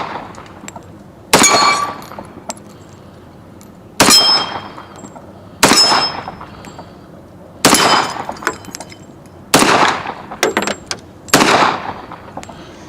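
Remington R1 1911 Government model .45 ACP pistol fired one-handed: six loud, sharp reports spaced a second or two apart, each with a ringing metallic tail and outdoor echo, no talking between shots.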